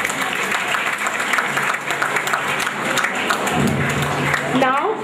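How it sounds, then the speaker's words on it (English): Audience applause at a school farewell event, broad and steady across the whole stretch, with a busy hall and voices mixed into the clapping. "could we please have a round of applause for our teachers"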